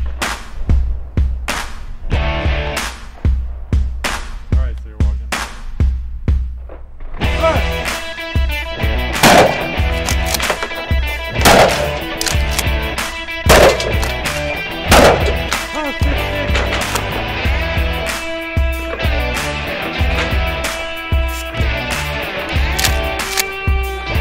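A combat shotgun fires repeated loud, booming rounds at a target on a range, first spaced shots and then rapid overlapping blasts, with voices faintly in the background.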